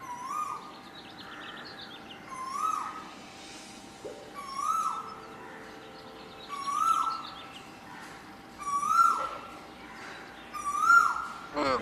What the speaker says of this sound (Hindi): ये सुबह सुबह कोयल की मधुर आवाज हमारे कानों में ठंडक पहुंचाती है।